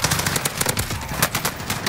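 Rapid automatic gunfire in Call of Duty Warzone, a close, steady burst of repeated shots lasting about two seconds.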